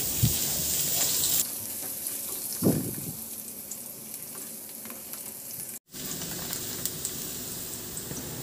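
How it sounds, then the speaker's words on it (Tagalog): Chopped garlic sautés in hot cooking oil in a pan, giving a steady close sizzle with a couple of brief stirring clatters and a momentary break partway through. "At igisa ko na rin yung bawang."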